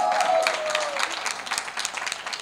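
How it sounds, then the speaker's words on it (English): Audience at a book launch event applauding a bestselling author, a dense wash of clapping that starts strong and gradually thins, no voices on top. "A little applause here."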